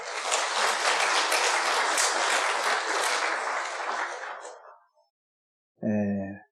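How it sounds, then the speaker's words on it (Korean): A church congregation applauds steadily for several seconds, the clapping fading out, followed by a brief voice. "우리 모두가 다 격려하고 또 감사하는 마음으로 박수 한번 쳐드리겠습니다"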